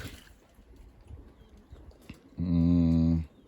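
A young pigeon in a loft gives one sustained, low, throaty coo lasting under a second, loud and close after a quieter stretch of faint rustling and small taps.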